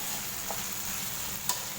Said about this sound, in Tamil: பச்சை மிளகாய் சேர்த்து இதை நல்லா மிக்ஸ் பண்ணுவோம்.